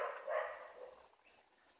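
A dog yelps in short, faint cries after being struck by a slingshot shot, heard alone in the open.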